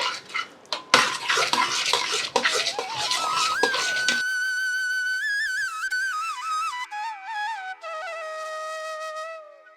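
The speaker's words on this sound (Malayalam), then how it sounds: "അടിയിൽ പിടിക്കാത്ത രീതിയിൽ നല്ലോണം ഇളക്കി കൊടുക്കുക." A utensil clanks and scrapes against a pot while banana payasam with jaggery syrup is stirred, followed by a long wavering squeak that rises and falls.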